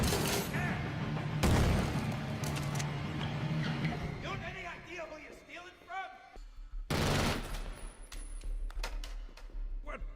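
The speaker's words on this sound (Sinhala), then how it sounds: "බැංක් මැනේජර් එයාලගේ ගන් එක උදුරගෙන ෂූට් කරන්න පටන් ගන්නවා." Gunfire in a film's bank robbery opening scene, dense bursts of shots and loud cracks with ringing impacts, a short lull, then another heavy volley, with voices heard in the mix.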